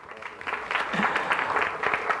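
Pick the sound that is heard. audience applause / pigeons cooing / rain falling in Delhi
audience applause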